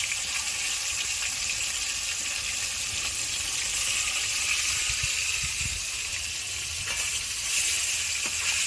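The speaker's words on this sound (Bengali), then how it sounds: "এখন মাছগুলো মা ভেজে নিচ্ছে।" Fish fry in a pan in a home kitchen, giving a loud, steady oily sizzle with occasional sharper crackles and pops, with no one talking.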